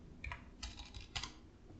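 Bursts of computer keyboard typing while entering values into a Microsoft Access query, a few quick clusters of close, crisp key clicks with no one talking.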